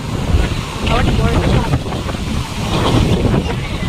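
Strong sea wind gusts buffet the microphone in a rough, continuous roar on Old Digha beach in the evening, with faint surf from rough waves underneath.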